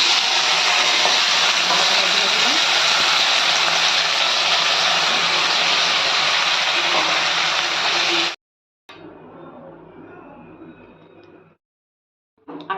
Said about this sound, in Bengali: আলু ভাজা, আলু ভাজবো। তেল কড়াতে দিয়ে দিয়েছি, তেল গরম হয়ে উঠেছে।